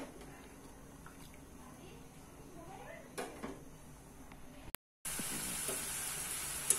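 Bitter gourd slices frying in a pan, a soft continuous sizzle with occasional stirring clatters, quiet and close, briefly cut off and then returning louder.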